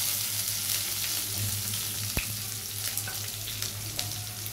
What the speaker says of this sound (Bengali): পেঁয়াজটাকে একটু ব্রাউন করে ভেজে নেব।